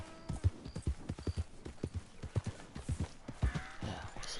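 A thoroughbred horse gallops in the video game Red Dead Redemption, its hooves beating a steady, rhythmic clip-clop that stays close and clear throughout, with no voices.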